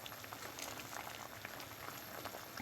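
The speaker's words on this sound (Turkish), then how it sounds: "benim reçelim şimdi tam yarım saattir kaynıyor" Thick green fig jam bubbling and popping steadily in a pot, a continuous close simmering burble with no talk.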